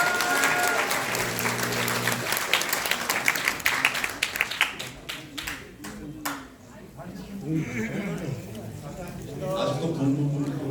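An indoor audience at a Korean public forum on election fraud claps in a sustained round of applause that fades out and then swells again, mixed with crowd noise and a voice talking over it.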